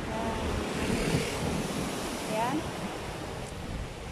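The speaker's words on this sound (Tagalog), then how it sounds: "Malakas ang alon guys." Strong sea waves surge at Patapat on the Ilocos Norte coast, a constant roaring wash of surf mixed with heavy wind buffeting the microphone, loud and unbroken throughout.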